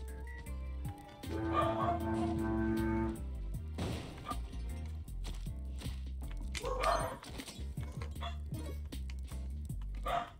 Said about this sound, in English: the workers are working, which causes the dogs to bark